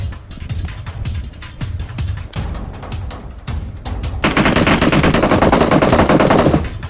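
Rapid automatic gunfire in the PUBG Mobile video game, a dense run of loud repeated shots that swells into a sustained, heavier burst of fire toward the end, with no voices over it.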